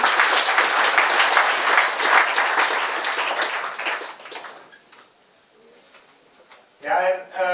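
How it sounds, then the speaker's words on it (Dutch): An indoor audience applauds loudly for several seconds, and the clapping fades into quiet before a voice speaks at the end. "Dames en heren, nog geen applaus voor Jelle Johan en vandaag Wouter en Wim Kleinman"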